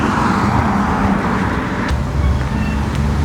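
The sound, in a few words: road traffic noise while crossing a street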